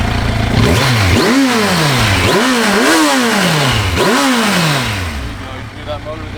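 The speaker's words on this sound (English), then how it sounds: "you can hear that motor there" A 2015 Kawasaki Versys 1000 LT motorcycle engine revving up hard several times in quick repeated surges, loud and close, before settling back toward idle.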